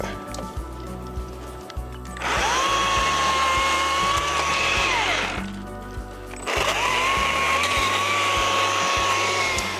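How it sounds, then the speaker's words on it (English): A small power saw trims wood during a weekend yard project, two long whining cutting runs of about three seconds each, loud and near, separated by a brief idle and a quieter rattling lull. "This is a great saw for around the house."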